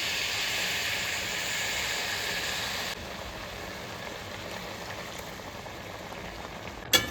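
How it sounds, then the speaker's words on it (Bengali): Water poured into a pan of cooking banana flower sizzles and hisses loudly and steadily for about three seconds, then settles into a quieter, constant simmering bubble with a small clink at the end. "এর মধ্যে আমি জল দিয়ে দিচ্ছি।"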